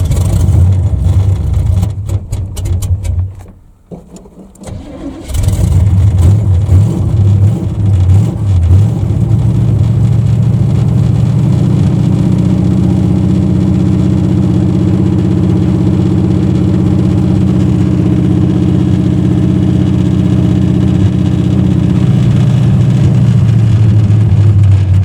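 A 1980 Chevy Malibu Landau with suspected dirt in the carburetor cranks, cuts out briefly, then settles into a loud, rough, uneven idle heard from inside the car, with a steady low rumble throughout.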